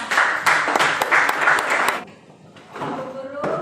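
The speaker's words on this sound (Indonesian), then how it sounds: "tepuk tangan untuk semuanya" A primary school class claps hands together, a dense burst of sharp claps for about two seconds, then a brief pause followed by a few scattered claps as a teacher's voice speaks over the room.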